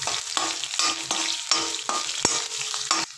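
Garlic sizzles in hot oil in a kadai while a spoon stirs it, giving a crackling frying hiss broken by repeated scraping strokes, close and clear with no voices.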